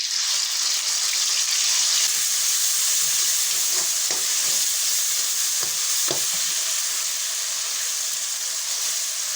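Chilies fry in oil for sambal, giving a loud, dense, continuous sizzle close up, with occasional faint stirring scrapes beneath the steady hiss.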